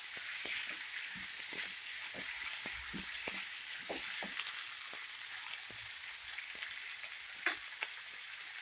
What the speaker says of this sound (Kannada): ಟೊಮ್ಯಾಟೊ ಸ್ವಲ್ಪ ಸಾಫ್ಟಾಗಿ ಆಗಬೇಕು, ಅದು ಗಂಟ ಫ್ರೈ ಮಾಡ್ಕೊಬೇಕು.